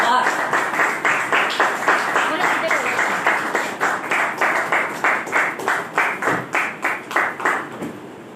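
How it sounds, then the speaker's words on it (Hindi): Audience applause welcoming company directors and trainers at a corporate monthly lucky draw ceremony, a steady run of rhythmic clapping lasting the whole stretch, moderately loud and gradually thinning toward the end. "आपकी जोरदार तालियों के साथ उनको स्वागत करूंगा"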